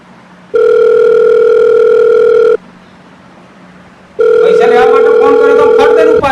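A telephone dial tone sounds as a steady, loud electronic tone in two stretches separated by a short quieter gap, with a busier, warbling tonal signal in the second part.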